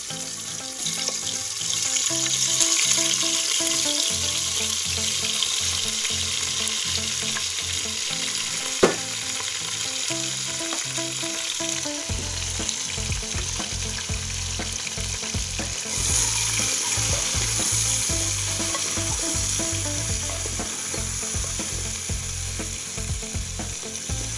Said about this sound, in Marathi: तेलामध्ये परतून घ्यायचे आपल्याला।